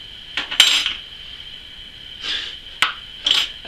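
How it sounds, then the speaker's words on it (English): A metal spoon clinks against a glass bottle while bread yeast is scooped into cinnamon mead, giving a few sharp taps and scrapes spread over several seconds, close and fairly clear. "So, I'm going to use 1 spoon of bread yeast."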